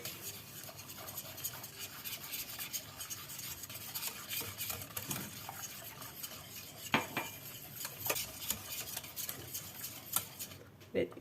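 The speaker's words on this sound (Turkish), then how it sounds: "Bu malzemelerimizi hepsini dökeceğiz tenceremize ve karıştıracağız" A utensil scrapes and clinks steadily around a metal pot of flour, sugar and cocoa being mixed for a Turkish saray sarması dessert, a continuous soft stirring sound with occasional sharper taps against the metal.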